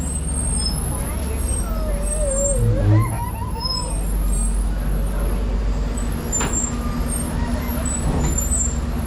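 A San Diego Zoo tour bus rumbles along with a steady low engine drone and road noise, a brief air-brake hiss audible, while a guide talks over it.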